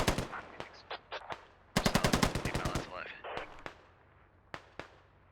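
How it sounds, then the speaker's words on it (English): Two medium machine guns lay down a base of fire in a video game firefight: a sustained rattling burst, then scattered single cracks and short bursts, some near and sharp, others distant, with faint voices underneath. "This is what a base of fire sounds like."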